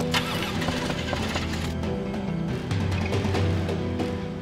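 A car engine cranks repeatedly without catching, a loud, continuous churning starter whir with uneven pulses throughout.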